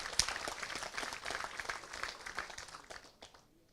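An audience at a college induction and orientation programme applauds, a dense crowd of clapping that holds steady for about three seconds and then fades out toward the end, with no voices over it.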